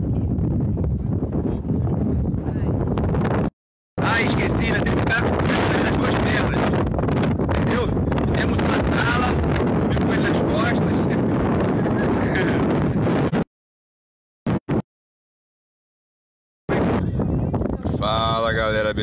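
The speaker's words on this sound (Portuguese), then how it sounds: "Tá ventando muito aí." Strong wind buffets the microphone in loud, roaring gusts on the summit of Pedra da Gávea, broken by brief drops to silence, with a voice heard near the end.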